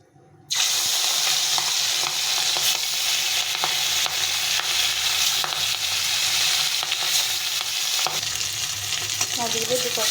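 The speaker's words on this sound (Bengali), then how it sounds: "মাছগুলো দুপাশে ভালো করে ভেজে নিতে হবে।" Fish fries in hot oil in a wok with a loud, continuous sizzle and crackle. Occasional stirring scrapes and pops are close up, and no voices are heard.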